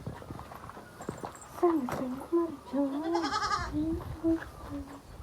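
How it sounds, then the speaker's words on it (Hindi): Small goats and kids bleating in a mountain village, several calls rising and falling in the middle of the clip over outdoor background noise and some voice. "ये छोटे छोटे बकरे वो है, कितने प्यारे प्यारे बकरियाँ हैं"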